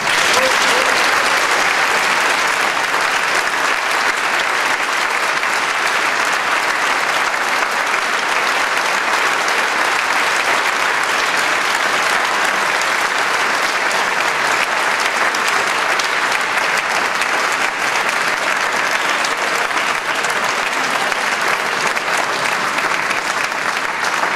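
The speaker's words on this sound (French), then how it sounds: "nous rejoindre sous un tonnerre d'applaudissements" Thunderous, sustained applause fills a cathedral after a choral concert, a dense, steady roar of many hands clapping at full volume without a break.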